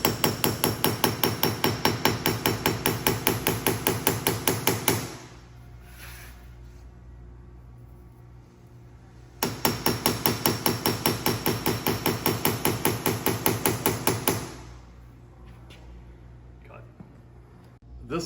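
A hammer strikes a saw plate bedded on an anvil in fast, even runs of sharp metallic blows, close and loud, with two bursts of about five seconds each separated by a quiet pause.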